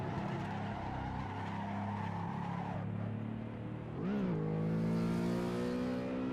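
BMW E92 M3 engine on a hot lap of the Nürburgring, a loud in-car drone that holds steady, dips as revs drop, then surges back up through a gear change with a sharp rising roar.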